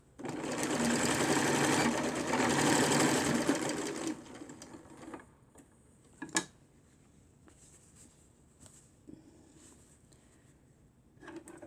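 A sewing machine stitches the underarm seam of a doll petticoat in a loud, dense burst of rapid needle chatter for about four seconds, then stops, leaving quiet handling clicks and a few faint taps.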